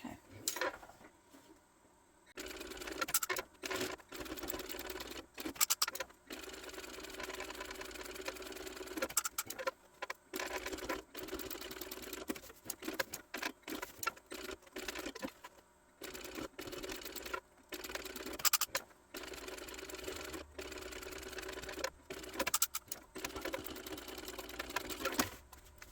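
A sewing machine stitching close to the edge of a bag, bursts of rapid mechanical chattering that start and stop repeatedly with short pauses between runs, close and clear without speech.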